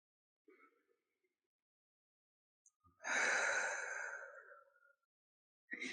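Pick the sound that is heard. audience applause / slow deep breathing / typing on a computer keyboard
slow deep breathing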